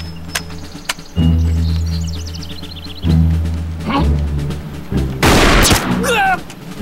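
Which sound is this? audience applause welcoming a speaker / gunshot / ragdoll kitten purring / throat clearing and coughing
gunshot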